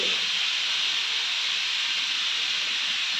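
A pressure cooker vents steam in a steady, loud, unbroken hiss that holds level for the whole stretch with no talking.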